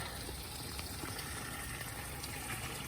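Water flowing past hay wattles into a large five-acre pond under construction, a steady, continuous rushing and gushing with no pauses.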